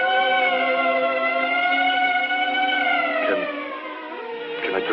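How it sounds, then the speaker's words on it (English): Ambulance siren wailing loud and steady in a stack of rising and falling tones, close and continuous, with a slight shift in pitch near the end. "The ambulance."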